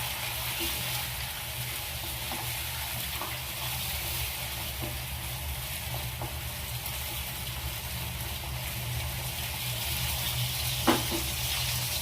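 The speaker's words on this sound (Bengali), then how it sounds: "এবার চিকেনটাকে আমি ভালো করে নাড়াচাড়া করে নেব।" Chicken pieces for korma sizzling in a pan as they are stirred, an even dense frying hiss with light scraping taps and one sharper knock near the end, close and without talk.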